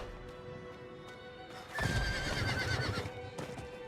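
A horse in the Diablo IV video game gives a loud, close neigh midway, set against a quieter ambient game soundscape with faint hoofbeats.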